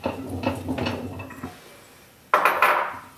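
Pearl onions tumble into a saucepan holding butter, making a short burst of clattering and rattling on the metal after a stretch of quieter kitchen handling noises.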